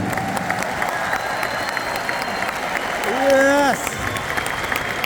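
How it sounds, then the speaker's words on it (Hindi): Audience applause at a speech, a steady wash of clapping throughout with a single voice briefly calling out near the end. "इस बात के लिए इतनी सी तालियां बहुत कम मानी जाएगी"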